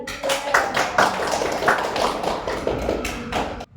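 Classroom audience applauding after a group presentation at a teacher-training session, a rattle of claps with some louder distinct slaps, steady and fairly close until it stops abruptly.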